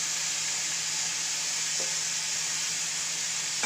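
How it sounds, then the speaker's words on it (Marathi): Garlic, ginger, cumin, fenugreek leaves and chillies fry in a pan for butter paneer, giving a constant close sizzle with a faint stirring scrape midway. "तर आता आपण हे फ्राय करून घ्यायचे।"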